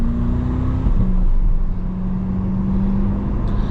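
A C8 Corvette in Sport+ mode drones with a steady, loud engine tone heard from inside the cabin, the pitch shifting once early on before holding a sustained hum.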